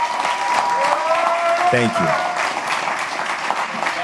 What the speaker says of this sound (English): Let's give our two panelists a round of applause